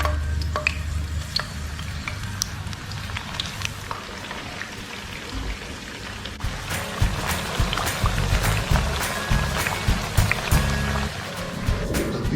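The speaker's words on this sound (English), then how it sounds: "Here I already heated the oil. I have a small bit of aubergine that was testing the oil because it needs to be really, really hot." Aubergine pieces frying in very hot oil for maklube, a continuous crackling sizzle with sharp pops and spatters, close and steady, with occasional bumps from handling the pan.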